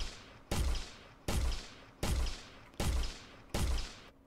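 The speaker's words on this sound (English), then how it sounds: "But it's still automatic. I can still shoot by holding the trigger." Automatic weapon fire from an Unreal Engine first-person shooter game, heard as five loud, evenly spaced bursts of rapid shots with short gaps between them, no voices.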